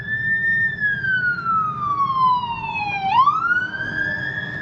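A fire truck siren wails close behind a car in downtown traffic, its tone sweeping slowly down and then rising sharply again, loud and steady against the road rumble.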